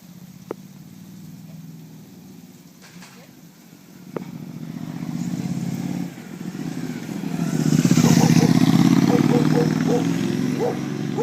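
A motorcycle engine rises and rumbles nearby during street dog obedience training, growing louder toward the end, with street noise, a brief clatter and voices in the background.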